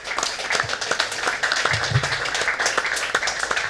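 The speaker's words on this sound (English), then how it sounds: "I ask for a round of applause for them too." Audience applause for event sponsors at an urban mobility community hangout in Porto, a steady wash of many hands clapping at moderate level for the whole stretch, with faint voices underneath.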